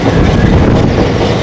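Passenger train running on rails between Ernakulam and Madras, heard from inside the carriage as a loud, dense low rumble with steady rattle and wind-like rushing, continuous and close.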